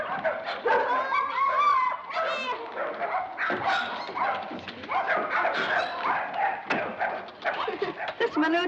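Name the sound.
dog barking and whimpering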